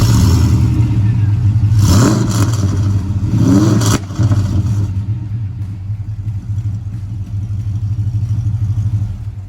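HSV VT Clubsport V8 with a crackle and pop tune and headers, idling with a deep loud rumble and blipping its throttle in a couple of revs, with a few faint crackles and pops on the overrun.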